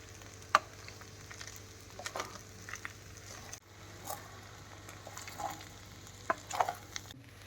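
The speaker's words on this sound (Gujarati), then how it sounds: "આપણે તાવીથાની મદદથી મિક્સ કરશું પૌવા અને બટેટા બંને મિક્સ કરી દેશું" Poha and potatoes being mixed in a pan with a spatula over low heat, producing quiet soft scrapes and occasional taps against the metal over a faint sizzle, with no talking.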